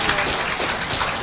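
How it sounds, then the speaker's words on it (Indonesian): Audience applause for a Diamond Director at a Jeunesse marketing plan training event, a steady dense clapping wash filling the whole moment without talk. "Mari kita beri tepuk tangan untuk Diamond Director kita"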